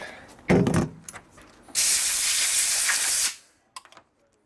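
A blast of compressed air clears out a freshly tapped nut: a loud, sustained hiss lasting about a second and a half, framed by a few small metallic clicks and handling knocks before and after.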